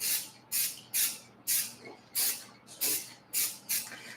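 Enamel paint sprayed from an aerosol can in a shop, eight short hissing bursts at a steady rhythm, each about a third of a second long with brief pauses between, close and fairly loud.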